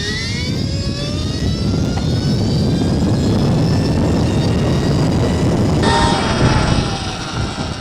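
A Stark Varg SM Alpha electric motorcycle accelerates hard in a loud, sustained pull, its electric motor whine rising steadily in pitch over heavy wind and road roar, with a brief shift in tone near the end.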